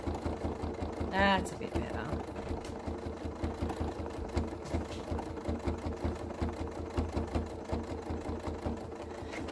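Sewing machine stitching stamped fabric at a slowed pace, a close, steady mechanical chatter of rapid needle strokes throughout, with a brief squeak early on and a short spoken comment over it.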